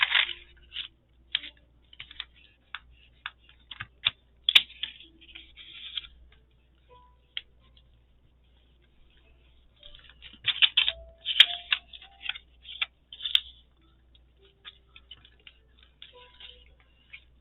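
Paper sheets folded and creased by hand while assembling a 16-page zine, giving sparse soft crackles and sharp little rustles in scattered bursts, close up, with quiet stretches between and no talking.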